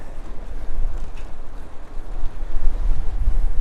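Loud wind rumbles and buffets against the microphone in uneven gusts during an early spring road bike ride, a low roaring blast with no talking.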